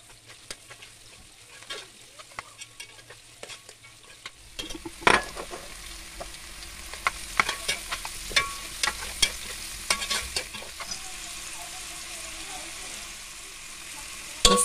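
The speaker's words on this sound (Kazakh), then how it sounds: "Енді үстінен сәбіз бен пиязды салып араластырамыз" Meat already fried sizzles in a pan as carrots and onions are added and stirred in, with steady frying hiss under repeated scraping and clattering stirs that grow busier partway through.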